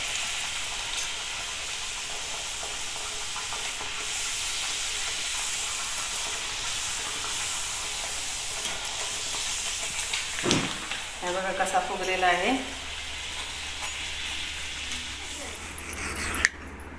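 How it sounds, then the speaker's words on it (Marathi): Jackfruit vadas frying in oil in a kadhai give a steady, close hiss of sizzling that runs throughout, with a brief burst of voice-like sound near the end. "फणसातले वडे टाकलेले आहेत कढईमध्ये."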